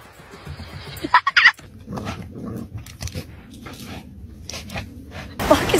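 A pet dog whimpers and lets out a few sharp barks in a house, the yelps clustered in quick bursts with quieter whining between them, close and fairly loud.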